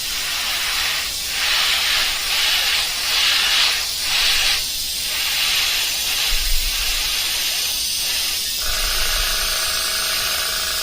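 Close, steady hissing of spray paint as a purple fade is misted onto a gill plate, with repeated short passes pulsing through the continuous spray.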